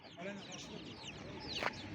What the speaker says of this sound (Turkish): Evet, burada da civciv satışımız var.